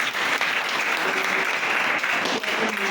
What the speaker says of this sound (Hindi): एक बार जोरदार ताली बजा दो।